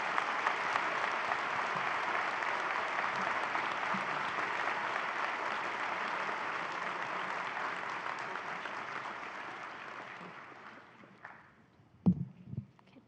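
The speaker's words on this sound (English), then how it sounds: "give a round of applause to the students who've already crossed the" An audience at a university autumn convocation breaks into sustained, even applause that carries on steadily before tapering off, followed by a couple of brief thumps at the end.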